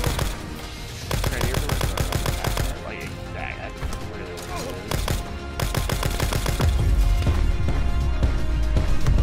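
Rapid rifle gunfire from an SDM marksman rifle in Black Ops 4, loud bursts of repeated shots with game music and effects running underneath throughout.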